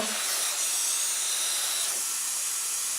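Air hissing steadily out of a tire through an ARB Rapid Air Deflater, a loud continuous close-up hiss that holds evenly throughout.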